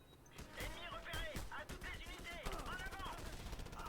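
Rapid automatic gunfire from a French-language multiplayer shooter video game rattles in dense bursts, loud and continuous, with clicks and game effects mixed in and voices talking over it.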